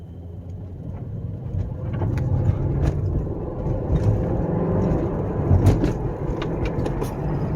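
A 1993 Mercedes 500E barn-find car drives slowly down a street, its engine rumbling steadily from inside the cabin with rises in pitch and brief dips as it moves through the gears.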